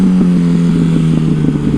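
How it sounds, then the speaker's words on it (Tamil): A 2008 Yamaha R1 sport motorcycle engine running on the road, a loud close steady drone with a strong low hum and slight rhythmic pulsing, no voices over it. "இந்த வண்டி சவுண்டு பயங்கரமாக இருக்கு கைஸ்"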